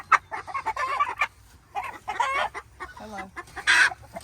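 Chickens at a farm cluck and chatter in short, uneven bursts, close by and fairly loud, with a few higher squawks and no talking.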